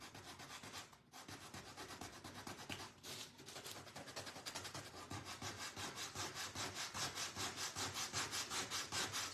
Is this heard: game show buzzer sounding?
no